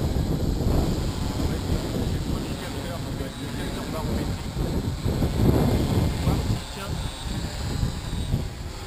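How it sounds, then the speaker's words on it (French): Outdoor wind blows during a quadcopter drone session, a steady rumbling gusty roar buffeting the microphone throughout, with a faint higher whine in the background. "on a quand même un certain vent là ce matin"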